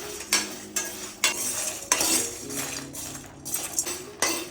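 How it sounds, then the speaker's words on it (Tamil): Grated coconut dry-roasting in a pan for kathirikai kuzhambu, with repeated scraping and clinking strokes of a spatula against the metal pan at an uneven rhythm, close and fairly loud, with no voices. "இது நல்லா செவக்க வறுத்து எடுத்துக்கலாம்"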